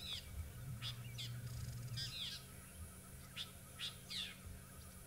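A fork-tailed drongo on a safari livestream gives several separate bursts of harsh, chattering calls at moderate distance, with short gaps between them, set against a steady outdoor background hiss.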